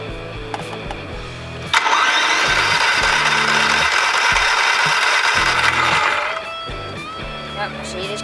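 A Toro Recycler lawn mower engine is cranked by its starter, first with short choppy turning bursts, then a loud steady roar for several seconds before it cuts back to sputtering cranks, heard close up.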